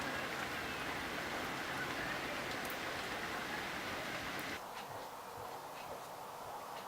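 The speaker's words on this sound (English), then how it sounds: "woke up from a nap and it's raining for the first time in weeks." Steady rain falls after weeks of dry weather, a soft even hiss of drops heard from indoors that drops a little quieter near the end, with no talk.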